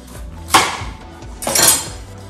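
Knife chopping the ends off vegetables on a cutting board for roasted veggies, two distinct close cuts about a second apart, each a short broadband crunch with a brief tail.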